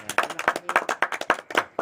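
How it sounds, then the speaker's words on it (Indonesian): Clapping at an Indonesian comedy talk show, a small group of people applauding in a quick, uneven rhythm of distinct claps, moderately close and with no talk over it. "tepuk tangan dong."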